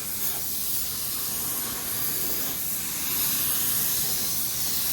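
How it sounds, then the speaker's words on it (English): A steady, broad hiss of a spray gun laying down matte clear coat, continuous and close, swelling slightly louder toward the end, with no talking. "Now you'll notice when I spray it that it looks just like regular clear coat"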